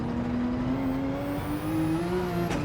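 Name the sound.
Porsche RSR race car turbo spooling up, from a racing video game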